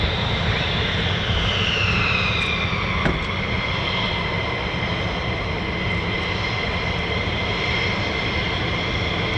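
A US Air Force fighter jet, such as an F-15 or F-35 of the 48th Fighter Wing, taxis at RAF Lakenheath with a loud, steady engine roar and a whining tone that drifts in pitch, continuous throughout with no talk.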